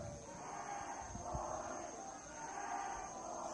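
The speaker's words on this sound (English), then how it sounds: "Crowd here getting into it." A wrestling event crowd gives a distant, muffled roar of cheering and shouting that swells and fades, low in level throughout.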